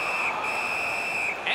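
A referee's whistle in the NHL 19 hockey video game, one long steady shrill blast lasting over a second with a brief second toot at the end, loud and clear with no talk.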